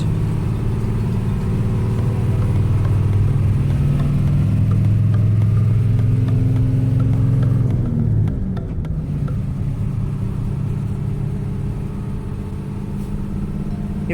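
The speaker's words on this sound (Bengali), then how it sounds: "তিনি ভলভো কোচটিকে এক টানে ওভারটেক করে ফেললেন।" A Nabil air-conditioned intercity bus roars as it accelerates hard to overtake a Volvo coach on the Dhaka to Rangpur highway, its loud, steady engine drone rising, then easing into a quieter road rumble.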